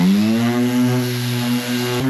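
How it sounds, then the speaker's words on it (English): A power sander runs on wood for a trailer build, giving a loud, continuous buzzing whine that dips slightly and then stops near the end. "If you try to sand like this, you're gonna create a divot in your wood."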